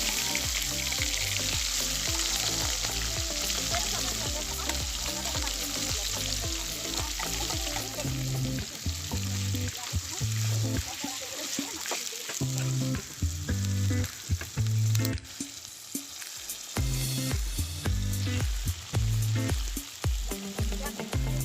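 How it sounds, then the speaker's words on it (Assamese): Meat sizzles loudly in hot oil, a dense continuous hiss at close range, with stirring scrapes and clatters through the second half and one brief dip in the noise. "অলপমান তেল দিছোঁ আৰু এইকণ ভালকৈ গৰমাই লৈছোঁ আৰু ইয়াত মই মাংসখিনি দি"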